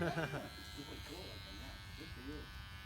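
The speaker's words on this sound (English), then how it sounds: "It's a good shaver, huh?" An electric shaver buzzes steadily at close range, with men chatting over it at intervals during a stop on a California coast bike ride.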